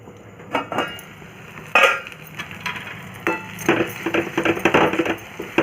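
Metal lid and utensil clinks on a pan while Marathi-style dhopa leaf vadi is flipped and covered to steam, several sharp knocks and scrapes spaced irregularly, close and fairly loud with no talking.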